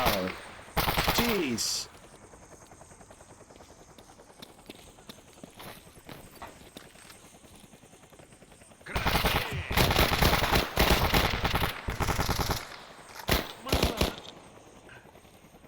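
Gunfire in the video game Stalker Anomaly: loud bursts of rapid shots come in two clusters, one early and a longer volley later, with a quiet stretch between them and a brief exclamation from a voice.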